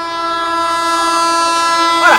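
The 12002 New Delhi–Rani Kamlapati Shatabdi Express passes at high speed, a loud, steady rushing roar with rolling wheel noise close by and no break.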